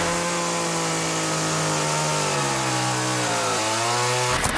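A chainsaw runs at high speed with its teeth spinning around 11,500 RPM, a loud, close, steady buzzing whine whose pitch drifts slightly lower before a brief rising burst at the end, with no voices.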